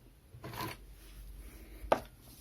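Scissors cut crochet yarn in two short, soft snips about a second and a half apart, close and quiet, with no talking.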